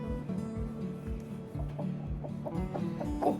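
Pet chicken wrapped snugly in a towel, making soft repeated clucks and low grumbling calls in an irregular rhythm, close by, with faint handling rustle and no speech.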